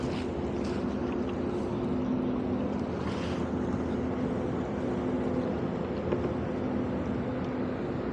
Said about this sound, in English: It looks like that tugboat's pulling out.